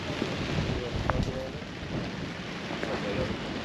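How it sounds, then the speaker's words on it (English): Wind and rain gusting steadily outdoors at a swap meet, a broad continuous wash of noise with low rumbling buffets against the microphone and faint voices now and then. "And the wind and rain is picking up again."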